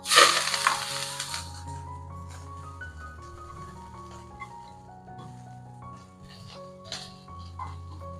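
Mustard seeds, urad dal, chopped okra and curry leaves hit hot oil with a sharp crackling burst, then settle into a steady soft sizzle under faint, tonal background music.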